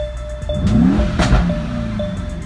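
A 2019 Mercedes E63S 4MATIC with a loud, close engine rising and falling as the car revs and pulls away, a short burst of deep mechanical roar with no voices.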